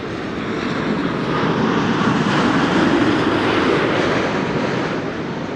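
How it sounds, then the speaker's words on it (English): KLM airliner arriving at Amsterdam Schiphol on a flight from Austin, Texas, a loud broad engine roar that builds gently and holds steady as it passes close by. "This is KLM Flight 668, arrived from Austin in Texas."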